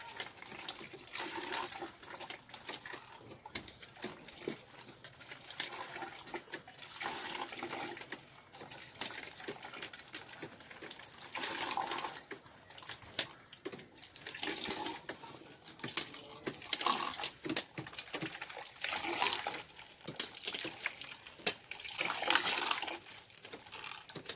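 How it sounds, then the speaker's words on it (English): Water from a walking-operated pump flowing and splashing continuously, a steady close gush with fluctuating surges and no talking. "As you can see, the water is lifting when I am walking from here."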